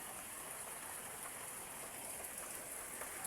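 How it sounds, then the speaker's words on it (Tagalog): Steady typhoon rain hisses down continuously, with scattered drops pattering on a surface near pigeon coops. "Ang ulan ay hindi tumitigil kasi daw po ay may bagyo."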